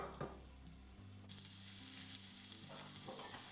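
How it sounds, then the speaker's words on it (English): Steady hot sizzling and crackling of pork steaks frying in a little oil in a hot pan, continuous and fairly close, with a brief scrape near the start. "we're just going to drop these into a hot pan with a little oil. And you'll hear that sizzle"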